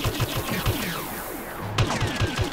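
Rapid blaster and gunfire bursts from the Star Wars Battlefront video game in survival mode, dense repeated shots stacked over a constant layer of game effects, with a sharp louder burst midway.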